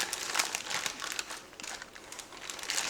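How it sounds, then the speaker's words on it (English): A plastic zipper-seal bag holding fajita marinade crinkles softly as air is squeezed out, with a quiet, irregular rustle close by. "take the air out of your bag"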